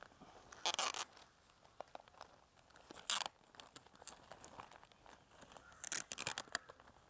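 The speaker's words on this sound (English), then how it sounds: "I must put the tape so that the bottom will be sealed properly." Packing tape pulled and pressed down to seal the bottom of a handmade newspaper carry bag, heard as several short, crisp tearing and crinkling bursts separated by quiet pauses, close and moderately loud.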